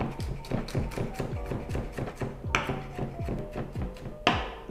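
A knife chops garlic on a cutting board while lasagna is being made, giving a quick, even run of close wooden taps that speeds up slightly, with a couple of harder knocks near the end.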